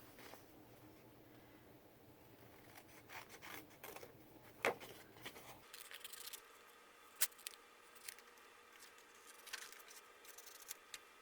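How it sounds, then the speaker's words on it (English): Scissors snipping around stamped paper images for handmade cards, soft irregular rubbing and rasping cuts with a few sharper snips, quiet and close with no talk. "So I'm going to cut them out."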